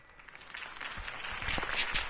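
Crowd applause at a political rally in the Batman Telltale video game, a fairly quiet wash of clapping that swells gradually and grows louder toward the end.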